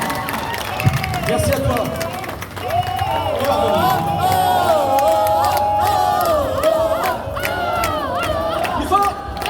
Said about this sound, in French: On applaudit beaucoup plus fort Julien Lamasson